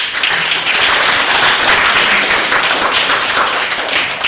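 Loud, continuous clapping rises from an audience at a launch event for a New York Chinatown mapping project, many hands beating together in a steady dense patter.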